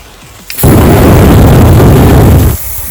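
Burning oil flaring into a large fireball after being sprayed, a sudden loud roaring whoosh that holds for about two seconds and then cuts off, close and alone.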